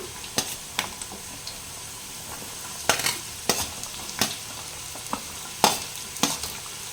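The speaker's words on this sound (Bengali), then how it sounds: "আলুটা ছেড়ে দিচ্ছি" Potatoes added to hot oil with browned onion for an aloo-potol bhaji, frying with a soft steady sizzle broken by repeated sharp scrapes and clacks of a spatula stirring in the pan, close and without speech.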